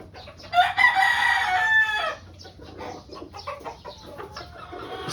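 A pure white Kelso gamefowl rooster with a straight comb crows once, close and loud, followed by softer clucking and scratchy farmyard noise.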